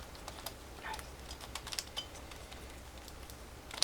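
A Professor Skewb puzzle cube, with stiff dino-style vertices that need loosening, turned by hand: soft, quiet plastic clicks and scrapes scattered irregularly across the moment, close up and without talk.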